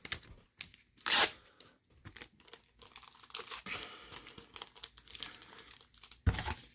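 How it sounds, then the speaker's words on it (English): A trading card, taped for shipping, is slipped into a plastic bag, making close crinkling and rustling, with a sharp louder crackle near the start and another at the end. "I got it taped. Put it in a bag."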